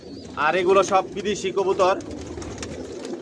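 Racer pigeons in a loft coo softly in the background while someone talks close up over them.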